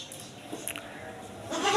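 A Pateri goat bleats at a livestock market in New Karachi, Pakistan: a few short, fairly faint cries over a steady background of market noise.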